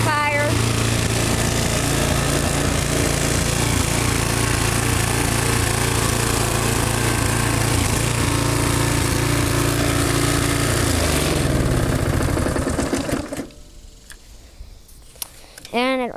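A Toro Timemaster 30-inch lawn mower engine runs loud and close with a steady drone and an occasional misfire, then drops away sharply near the end.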